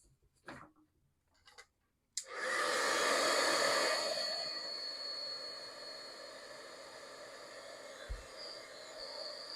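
A heat tool melts white embossing powder on a stamped paper banner. A few faint handling taps come first, then the tool switches on with a loud, steady blowing whir that runs to the end.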